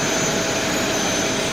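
An Airbus A330-800 Neo flying at an air show, giving a loud, continuous roar of jet engines that stays steady and close throughout.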